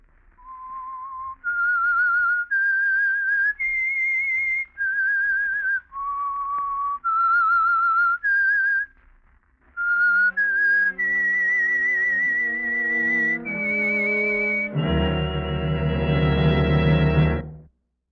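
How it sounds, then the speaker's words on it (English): A lone whistled melody, the theme of the radio drama The Whistler, clear and close, rising and falling through a short theme before a full orchestra swells in at the end. "That whistle is your signal for the Signal Oil Program"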